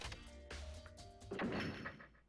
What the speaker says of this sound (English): As soon as the door to the data center was closed, I heard a strange sound.